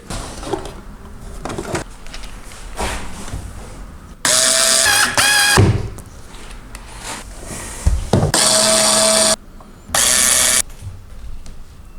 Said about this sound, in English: we can secure the top sheet of plywood by drilling up from the bottom